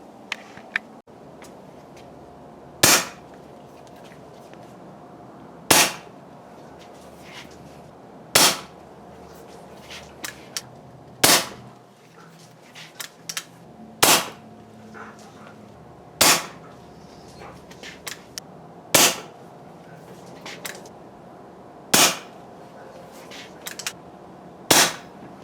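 A Leshiy air rifle firing a shot string: about nine sharp, loud cracks at steady intervals of roughly two to three seconds, each followed by faint clicks of cocking and handling in a quiet space.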